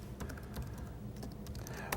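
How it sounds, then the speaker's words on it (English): Rapid typing on a laptop keyboard, with irregular clusters of light plastic key clicks at close range and no voices. "Want to type in Google real quick?"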